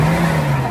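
A Mitsubishi Adventure engine holds a steady, loud revving drone, close up and alone.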